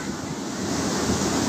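Surf rolls in steadily at Buton Adipala beach on Java's south coast, a loud, continuous wash of breaking waves mixed with wind buffeting the microphone, with no voices over it.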